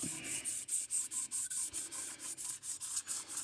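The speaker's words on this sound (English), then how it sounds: "I don't put any pressure on the sandpaper because it's a 600 grit and it doesn't need to put gouges in the head" Hand sanding the cylinder head of a 1957 Chevy Bel Air 283 V8 with light pressure on 600 grit sandpaper, a soft rhythmic rasping of steady back-and-forth strokes, close and alone.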